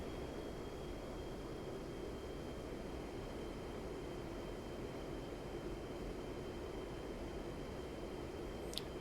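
JF-17 jet engine in the DCS flight simulator being throttled up, giving a steady, loud broadband roar with a thin high whine that holds unchanged throughout, with no voices.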